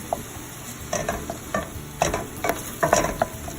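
Tomato sautéing in a pan for chicken and pasta soup, heard as repeated scraping stirs and clacks of a utensil against the pan over a light, steady sizzle, fairly close with no talk.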